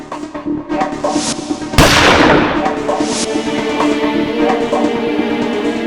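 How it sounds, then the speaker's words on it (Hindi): A single loud, close gunshot cracks out, followed by a lingering rumbling decay over steady background noise. "तो गन यहां रखी और गोली चलाई।"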